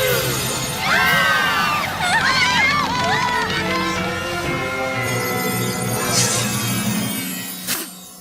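Cartoon ponies scream and shriek as a crowd, overlapping high wails running continuously for several seconds, loud and close, with a crash of breaking near the end.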